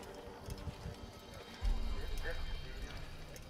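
Horse hooves clip-clop in the Assassin's Creed video game, a soft steady trot that swells louder and closer midway, with a voice talking over it.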